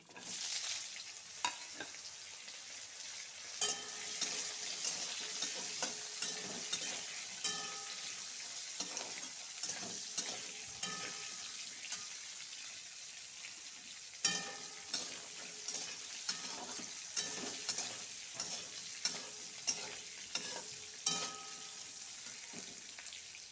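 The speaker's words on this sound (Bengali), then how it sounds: "ডাটাটা একটু ভেজে নিব" Vegetable stalks fry in a pan of hot oil with five-spice tempering, giving a steady broadband sizzle with frequent clicks of stirring, close and fairly loud throughout, with no voices.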